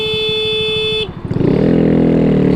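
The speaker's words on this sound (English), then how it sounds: "even the Beetle honks" Close, steady car horn from a Volkswagen Beetle sounds for about a second, then a motorcycle engine revs up loudly and keeps running.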